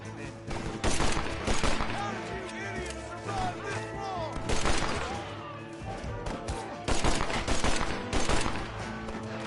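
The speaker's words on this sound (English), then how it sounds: "the Mauser pistol is really accurate" Close, loud Mauser pistol gunfire in Red Dead Redemption arrives in rapid clusters of sharp shots with brief gaps, among busy game noise and a few faint voices.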